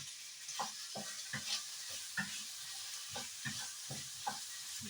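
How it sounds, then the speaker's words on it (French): Cooked meat with garlic and onions stirred in a sizzling pan, a spoon scraping in a steady rhythm of soft strokes over a continuous hiss of frying, close and moderately quiet. "Maintenant je mélange le tout."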